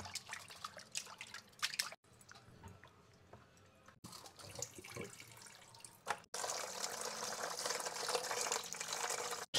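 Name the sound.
water washing tengra fish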